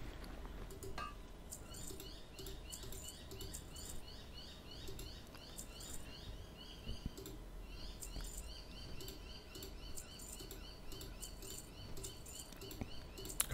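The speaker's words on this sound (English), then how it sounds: "Got some noisy birds outside my window." Birds chirp and twitter steadily outside a window, a busy, moderately distant chorus of quick calls running throughout with a faint patter beneath.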